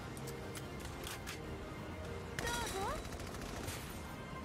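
Gunfire in the wartime strategy game Valkyria Chronicles 4, a quick series of sharp rattling shots followed by a denser burst with rising electronic tones, all set against steady game background noise.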